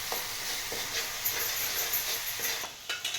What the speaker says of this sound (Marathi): चांगलं लाल होतं भाजायचं, तळून घ्यायचं